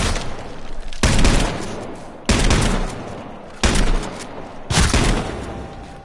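Shotgun blasts in the video game H1Z1: four loud, booming shots spaced about a second apart, each with a sharp attack and a lingering rumbling tail, with no talk.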